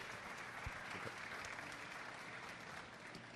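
An audience at a Fuckup Nights event in Bucaramanga claps steadily and fairly softly, a continuous patter of applause heard from a distance.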